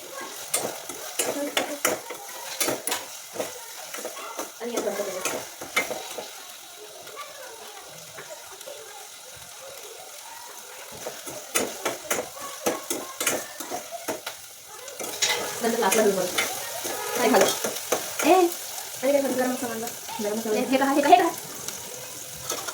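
Groundnuts frying in a pan with Maggi noodles, stirred with a utensil: a close sizzle with scraping and clinking, brief murmured voices, and louder bubbling hiss toward the end.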